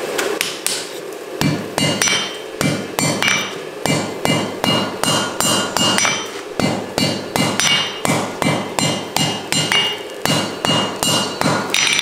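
Hand hammer strikes forge-welding rebar tongs on an anvil, a fast, even series of loud, ringing metallic blows, close up and continuing steadily with short pauses, no talking.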